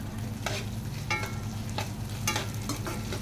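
Idli pieces roasting in a pan for spicy chilli idli, a continuous low sizzle with periodic scraping strokes from stirring, close and steady, with no voices.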